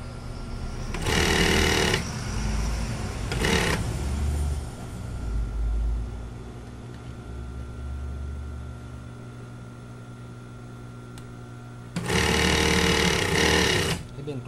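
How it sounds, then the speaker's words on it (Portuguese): An overlock sewing machine hems jeans in two loud bursts of rapid stitching, a short stutter between them and a third long run near the end, with someone talking during the quieter gaps. "Agora eu vou levar lá no overlock."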